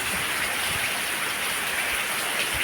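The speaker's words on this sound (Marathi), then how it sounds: "धो धो पाऊस पडायला लागलाय" Heavy rain pours down steadily in a dense, continuous hiss, close and loud, with no voices or breaks.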